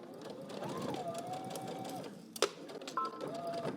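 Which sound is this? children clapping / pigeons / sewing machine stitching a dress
sewing machine stitching a dress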